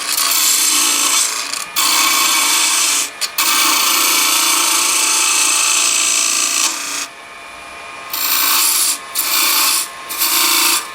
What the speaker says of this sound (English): Then I go back to my 1/4 inch detail gouge.